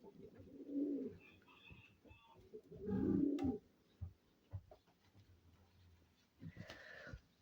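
Pigeons coo softly nearby in a few low, throaty bursts, with quiet rustling and scattered small noises between calls.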